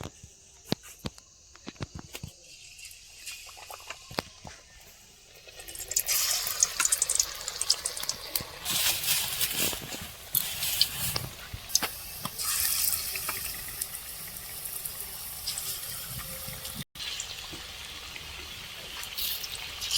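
Hands swished and splashed in a bucket of water in a home kitchen setting, starting with quiet scattered drips and then turning into steady close sloshing and trickling with occasional sharper splashes, no talk.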